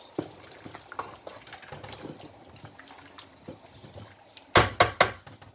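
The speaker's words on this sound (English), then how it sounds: "Then I give it a stir." Locust beans and ogiri being stirred into a pot of native stew, soft wet sloshing and faint scrapes, then a short burst of three or four louder knocking clanks of a spoon against the pot.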